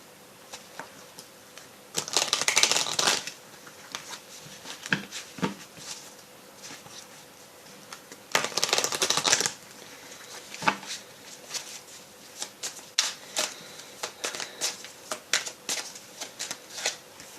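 An oracle card deck is riffled and shuffled by hand in two longer crisp bursts, with lighter card flicks and taps scattered between them, close and fairly quiet.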